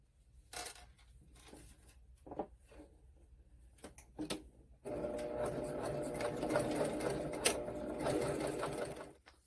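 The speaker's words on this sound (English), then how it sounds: "I fold mine in half and I sew right along the side of here to keep it together" A sewing machine stitches along the side of a folded fabric key fob strap, with quiet handling and positioning sounds first, then a steady, close mechanical whir running continuously for several seconds.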